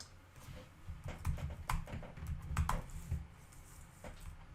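Quiet, close computer keyboard typing in irregular bursts of light clicking keystrokes, with a few louder key taps, heard alone without talk.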